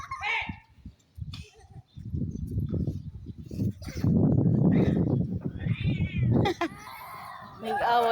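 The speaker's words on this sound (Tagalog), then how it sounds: "Ay, nag-away na pusa." Cats fighting outdoors let out drawn-out yowls and harsh caterwauls that rise and fall in loud bursts, while people speak over and between the cries.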